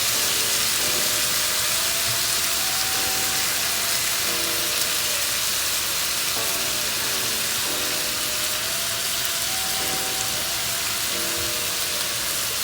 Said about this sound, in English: going in with my shrimp